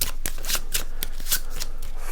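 A patrol deck of cards from the board game Maquis is shuffled during solo play, giving a close, steady run of rapid riffling flutters, loud and without any talking.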